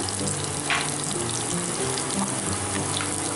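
Finely chopped green chili, sesame seeds, ginger and garlic fry in hot oil, giving a loud, continuous sizzle and crackle that stays close and steady throughout.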